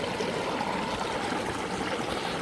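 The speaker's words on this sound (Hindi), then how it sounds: "ये पहाड़ों से पानी आ रहा है, मैं बता रही हूँ आपको। ये बहुत ठंडा पानी है।" Cold mountain water flows steadily in a stream, a continuous broadband rush and trickle that stays even and fairly close throughout, with no voices.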